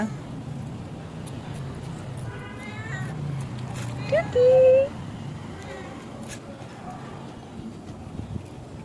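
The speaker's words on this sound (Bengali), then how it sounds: "ম্যাও ম্যাও করিস না" A cat meows in a few short, clear calls close by, with one louder, drawn-out meow standing out midway over a steady background hum and scattered voices.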